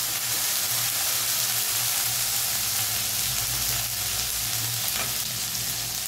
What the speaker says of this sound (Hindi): अब टमाटर भुज गई है